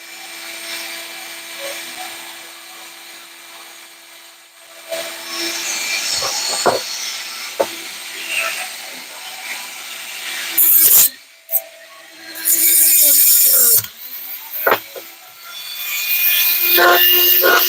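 A flex shaft rotary tool whines and grinds against a custom knife in uneven bursts, with scraping passes and brief sharp spikes between quieter stretches.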